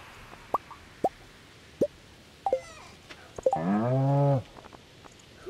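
A cow in the Stardew Valley farming game gives one short, close moo after a series of soft plopping game sounds, with no talking over it.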